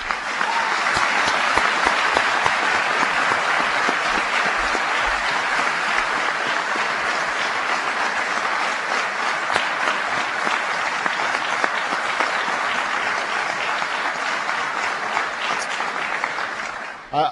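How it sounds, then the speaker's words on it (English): Sustained applause from a large audience for Virginia senators John Warner and Jim Webb, a dense, steady wall of clapping that holds loud and even for the whole stretch before cutting off. "Please give a big round of applause to Virginia's own John Warner and Jim Webb"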